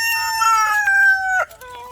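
A rooster crows loudly and close by in a homestead hen coop, one long drawn-out call with a falling finish, followed by softer clucking from nearby hens.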